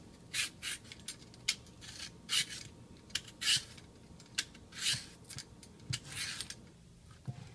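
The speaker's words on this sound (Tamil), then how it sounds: "இப்போது இதோட ஸ்கின்னு நம்ம ரிமூவ் பண்ணிக்கலாம்" A knife scrapes the skin off a raw plantain (green cooking banana) in a home kitchen: a series of short, dry rasping strokes in an uneven rhythm, close and fairly quiet, with no talking.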